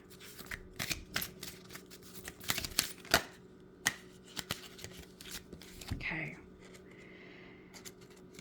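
A deck of oracle cards being shuffled by hand, with a series of sharp riffling snaps and soft flutters in irregular bursts, close and crisp, with a faint voice murmuring underneath.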